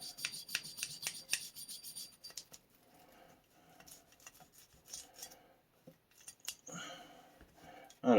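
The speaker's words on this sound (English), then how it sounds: "I'm going to use a nylon brush because of the finish on this. Get down in the slide grooves, the base of the frame there." A nylon brush scrubbing the frame and slide grooves of a Sig Sauer M18 pistol, with quick bursts of close, dry rubbing strokes, then quieter intermittent brushing and small handling clicks.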